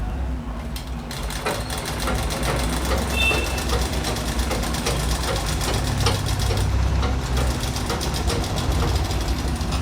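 A sewing machine stitches a chudithar pant, a loud, steady mechanical rattle with fast regular needle beats running without pause for the whole stretch.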